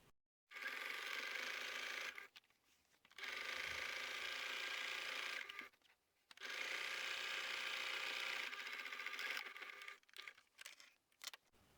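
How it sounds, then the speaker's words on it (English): Sewing machine stitching straight along the bottom of the outer fabric of a quilted laundry bag, three long steady whirring runs separated by brief pauses, close and clear. "now sew straight along the bottom of the outer fabric"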